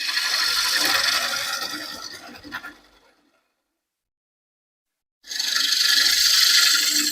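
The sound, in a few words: bowl scraper hollowing a wooden bowl on a lathe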